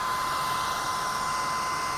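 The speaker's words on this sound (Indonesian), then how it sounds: "Ini suara kipas kenceng loh." The turbo cooling fan of an iBright ZE-400 bi-LED projector headlight gives a steady, close whirring hiss with a constant tone and no change in speed.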